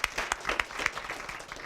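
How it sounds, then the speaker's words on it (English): Audience at a school district spelling bee applauding, a brief burst of scattered clapping from a small crowd, moderately faint and somewhat distant. "Let's have a round of applause for that."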